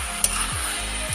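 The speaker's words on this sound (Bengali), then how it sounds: "তো আবার আমি এটাকে একটু নেড়ে নিচ্ছি, যাতে না বসে যায় এইটাকা সবজিটা।" Ash gourd being fried in a pan with prawns and coconut, with a continuous close sizzle and a couple of soft scraping stirs of a spatula, no talking.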